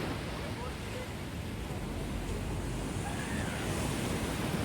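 Sea waves at Marina beach in Chennai wash in as a steady broadband roar, loud and continuous, with a gentle swell toward the end.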